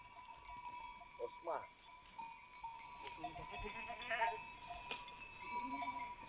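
Sheep on a farm bleat faintly at a distance, with a couple of short calls amid steady outdoor background noise, light clinks and other farm ambience.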